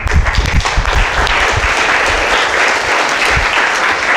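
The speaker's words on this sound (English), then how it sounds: "You can clap properly." A school audience claps during a talk, a loud, dense round of applause that holds steady from start to finish close by, with only faint traces of voices beneath.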